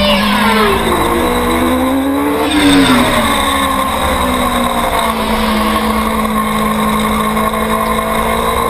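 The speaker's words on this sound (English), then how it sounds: "There's the battle between Pfister and Lugo coming into turn 13." Superstock racing motorcycles in a novice open race at a WSMC track roar past near turn 13, their engines whining loud and continuous with rising and falling pitch sweeps as they pass close by.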